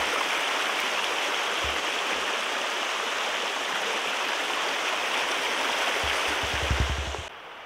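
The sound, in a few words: mountain stream flowing beside a hiking trail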